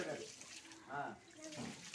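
Water splashes and trickles softly as it's poured, with a faint voice in the background.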